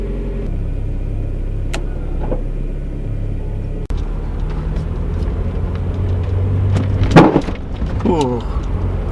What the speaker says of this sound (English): I'm just letting the Miata warm up a little bit before I start driving to school.